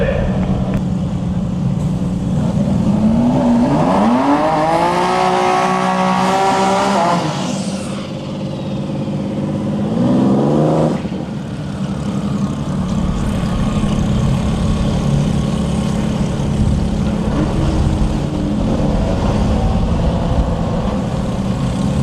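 GTR Unlimited drag race cars at Bradenton Motorsports Park roar loudly, engines rising in a sharp climbing rev, then a second surge and a sustained heavy rumble as the cars run close by.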